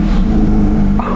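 A Porsche 911 GT3 RS engine idles and revs close by, a loud, low, steady engine note that dips briefly near the end.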